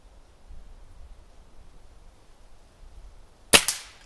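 A single sharp crack from a Black Bunker BM8 survival air rifle striking a prairie dog field target outdoors, sudden and alone after several seconds of quiet background hiss.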